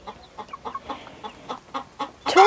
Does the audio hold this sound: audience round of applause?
no